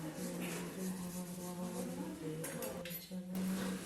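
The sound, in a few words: washing puja utensils, dishes clinking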